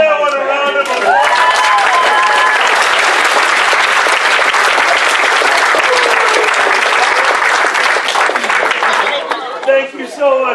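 Loud, sustained audience applause fills a crowded room at a furry convention improv comedy show, steady for about eight seconds before tapering, with voices talking briefly at the start and end.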